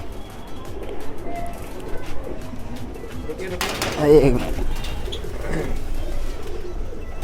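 Soft pigeon coos and rustling wings blend with someone speaking, cooing faint and intermittent under the talk inside a large pigeon loft.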